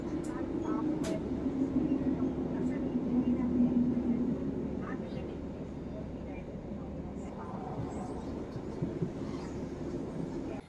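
A train on the South Wales Metro line near Pontypridd rumbles steadily from inside the carriage, with a low droning hum that is stronger at first and then settles into an even roll for about ten seconds.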